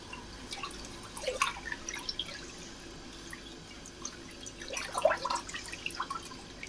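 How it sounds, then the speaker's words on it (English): Hands rinsed under running water at a kitchen sink while making bread and butter pickles: a soft steady trickle with scattered drips and splashes, brief louder bursts of splashing, no talking. "Just going to rinse my hands, Mr. Wallflowers."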